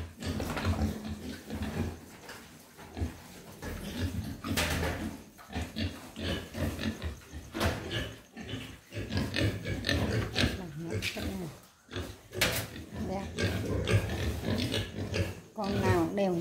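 Pigs grunting and oinking in a pen on a Vietnamese farm, with a dozen fattening hogs close by, while someone talks steadily over the shuffling and snuffling.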